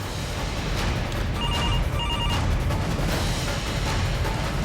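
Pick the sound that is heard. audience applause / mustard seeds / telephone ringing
telephone ringing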